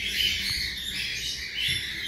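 A canary chirps and twitters continuously at close range, a bright, busy stream of high trills with no voices over it.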